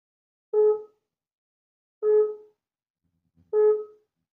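A telephone busy signal after dialing sounds as three identical short electronic tones, evenly spaced about one and a half seconds apart, clean and alone against silence.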